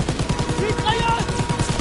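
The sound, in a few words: machine gun fire in the video game Call of Duty WWII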